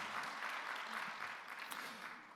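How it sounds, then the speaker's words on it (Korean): A church congregation applauding during a Sunday worship service, a soft, distant patter of clapping that stays fairly even and fades slightly at the end. "박수로 환영하도록 하겠습니다"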